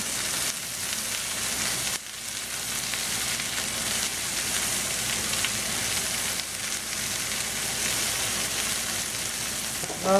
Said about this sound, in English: then we're going to put the red cabbage in.